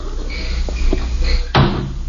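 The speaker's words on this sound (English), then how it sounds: "That screen door certainly needs fixing." An old-time radio comedy sound effect of a back screen door, a few light creaks and taps followed by a sharp wooden clap as it swings shut, close and clear.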